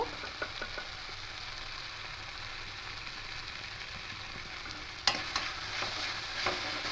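Bitter gourd and potato pieces are stirred while frying with spices and garlic paste in a pan for a mustard-paste chorchori. There is a steady low sizzle with scattered scrapes and clicks and a sharper knock near the end, with no voices.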